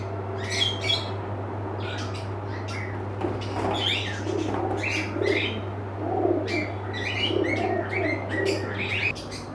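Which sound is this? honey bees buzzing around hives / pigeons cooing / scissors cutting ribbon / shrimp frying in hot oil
pigeons cooing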